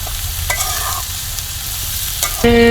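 Onions frying with a little salt in a pan for a spicy eel curry, a steady close sizzle broken by scraping spatula stirs and a metallic clatter near the end, with no voices.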